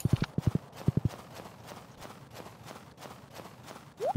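Horse hooves in the farming video game Stardew Valley: a quick rhythmic clip-clop of hoofbeats in bursts at the start, then softer steps and a rising game sound effect at the end.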